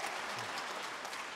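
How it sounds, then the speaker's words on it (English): A debate audience in a hall claps steadily, a dense, even wash of applause from many hands that holds for the whole short stretch, with no voices over it. "Now, you folks who are applauding on that,"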